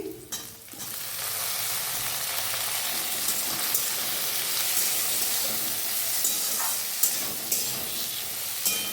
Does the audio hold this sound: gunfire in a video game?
no